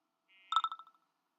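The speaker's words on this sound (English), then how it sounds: "I'm getting the ringtone that I have associated with the target alarm" A phone ringtone set as the target alarm for a JB Industries DV40S wireless micron gauge plays one short electronic tone, then a quick run of descending pulsed beeps, clear and isolated in silence.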